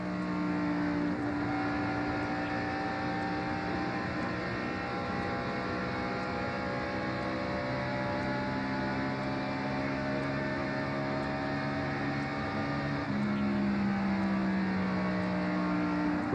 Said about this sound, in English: here comes Jeff Gordon trying to march his way back to the front as he goes by Loy Allen